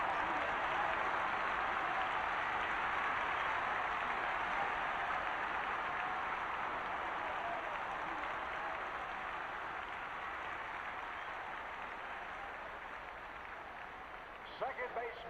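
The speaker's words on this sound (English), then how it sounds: "You can feel the crowd here. The noise is deafening." A stadium crowd roars after a home run in All-Star Baseball 2002, a dense, loud, continuous wash of cheering that holds steady before easing slightly at the end.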